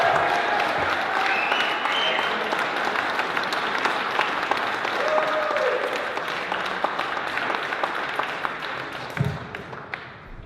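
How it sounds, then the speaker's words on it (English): Warm audience applause welcoming Mike Lalonde as the next Member of Parliament at his campaign launch, a dense, continuous wash of clapping with a few louder claps and cheers, fading slightly toward the end. "please join me in giving a warm round of applause"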